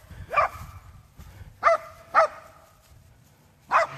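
Dogs bark at loose neighbour chickens outdoors, four sharp separate barks spaced over a few seconds against quiet rural background noise.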